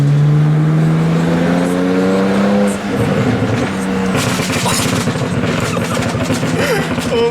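A car engine drones and revs while driving, then a rapid, crackling burst of exhaust pops and bangs follows, loud and close, with brief voices in the cabin.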